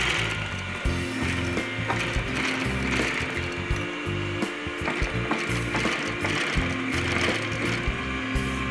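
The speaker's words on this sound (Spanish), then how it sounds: "Y empezamos a coser." A sewing machine stitches a men's leather bag, running continuously with a fast, steady mechanical clatter and rattling gear noise, close and loud with no talking.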